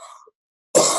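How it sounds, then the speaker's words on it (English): A single sharp cough bursts out after a brief silence, close and loud, following a faint trailing voice. "I'm going to cough for a second."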